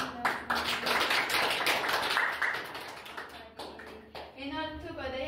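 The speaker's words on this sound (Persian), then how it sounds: "تشویق کنین خودتون" Children clap in a lively, uneven burst in a classroom at an Afghan learning facility, the clapping continuing for several seconds with voices mixed in and someone speaking near the end.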